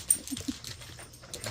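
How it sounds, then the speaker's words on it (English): A bloodhound whimpers softly up close, giving a few short whines and faint breathy sounds over a low background hum. "That's that bloodhound, babe."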